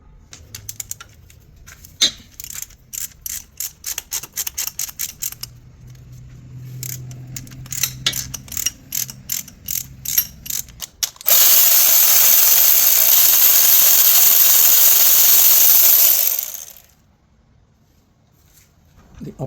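Ratchet with a 15mm socket loosening a car starter bolt, sharp rapid clicking bursts in quick runs, followed by a long loud steady hiss before it stops.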